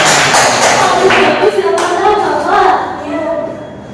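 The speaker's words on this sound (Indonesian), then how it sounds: "tepuk tangan untuk kelompoknya Kirana" Classroom applause for a student group, loud close hand clapping from several children at first, thinning and fading toward the end, with children's voices mixed in.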